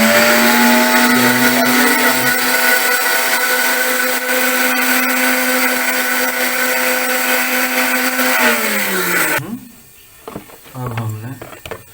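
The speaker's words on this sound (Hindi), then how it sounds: "ये हमारे पास पाव दही है, हम इसको ग्राइंड करेंगे और इसमें मसाला जात ऐड करेंगे।" A kitchen blender grinds yogurt with spices in a loud, steady, high-pitched whir that holds for about nine seconds, then slows and cuts out, leaving a few quieter bumps and handling noises.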